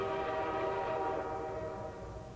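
Train whistle sounding in the Portal 2 video game, a loud steady multi-tone horn blast that holds and slowly fades, heard alone without speech.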